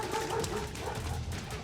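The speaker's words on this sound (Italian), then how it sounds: "Ci sono i cani, dobbiamo continuare." Guard dogs bark in the Metal Gear Solid 3: Snake Eater video game, a quick run of close, sharp yips and barks within a busy mix of game sound.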